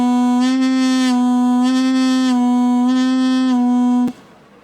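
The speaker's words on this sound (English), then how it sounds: "the concept of uplipping is where we use the lip to go upwards against the reed and bend the pitch of the note" A duduk sustains one loud, reedy note, with the player's lip pushing the pitch slightly upward several times before the note stops abruptly.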